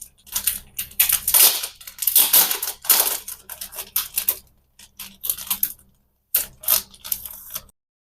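Pre-order merchandise packaging for an album set being unwrapped and torn open, with bursts of crinkling, ripping plastic and paper close up, broken by short pauses and a near-silent gap.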